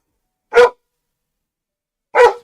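A dog barks twice, each a single short, sharp, close bark, separated by over a second of silence.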